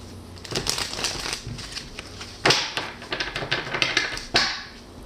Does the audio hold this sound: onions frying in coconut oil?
no